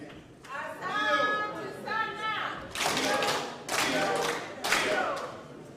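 An audience at a national political retreat of district leaders breaks into bursts of clapping, several rounds of many hands in a large room, mixed with someone talking over a microphone.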